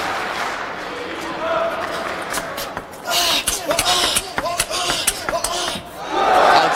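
Excited crowd at a World Tour Grand Finals table tennis match between Koki Niwa and Dimitrij Ovtcharov, shouts and cheering rising over rhythmic ball knocks from the rally, building to a loud roar at the end.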